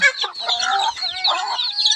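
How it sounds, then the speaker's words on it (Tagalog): Several chickens cluck and squawk close by, a busy overlapping flock chatter that continues throughout. "Daghan kayong manok"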